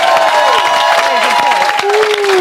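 Studio audience on a live television talk show applauding and cheering, a dense, loud wash of clapping with whoops over it.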